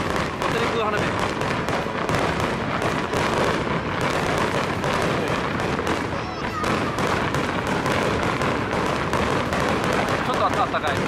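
Fireworks at a Japanese festival crackle and pop in a dense, continuous barrage of rapid bursts, loud and close throughout.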